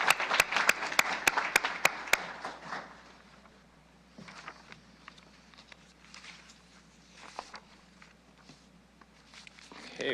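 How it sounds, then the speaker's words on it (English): A city council chamber audience gives a round of applause, with several loud close claps at the start quickly fading into scattered light clapping, shuffling and footsteps moving about the room. "let's give one more round of applause for the folks with that"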